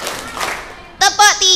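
Children in a religious study class clap together on command, making a short burst of crisp group claps after a woman's spoken count. The clapping is close and loud.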